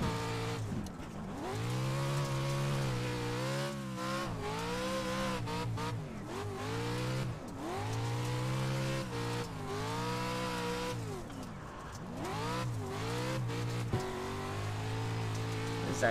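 Stadium truck lapping a track in the iRacing simulator while drifting, a loud engine revving up and down through repeated gear shifts and corners, with tire squeal mixed in, continuous and close.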